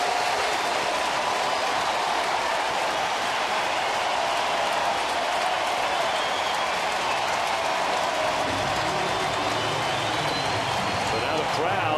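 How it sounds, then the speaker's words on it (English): A stadium crowd at a Reds versus Dodgers baseball game roars steadily and loudly through the final out, a dense wash of cheering under a play-by-play announcer's voice. "So now the crowd anticipating back-to-back wins for the Reds."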